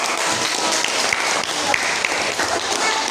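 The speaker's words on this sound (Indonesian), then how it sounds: "Kasih tepuk tangan dulu." Classroom applause from a class of junior high students, a steady dense wash of clapping lasting throughout, moderately loud and evenly sustained.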